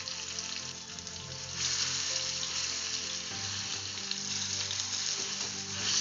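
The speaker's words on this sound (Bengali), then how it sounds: "তেঁতুলটা এবার আমি ভালো করে নাড়াচাড়া করব।" Tamarind for a quick pickle is stirred in a hot pan, giving a steady, close sizzle with soft scraping underneath that holds fairly even for the whole stretch, and no one speaks.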